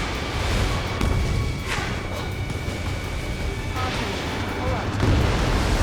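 A destroyed target blows up in Ace Combat 7: Skies Unknown. The explosion is a loud, sustained booming rumble that fills the whole stretch, with voices talking over it.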